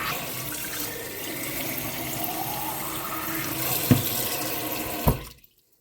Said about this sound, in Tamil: முதல்ல நாங்கள் தண்ணியை நிரப்பி கொள்ளுவோம்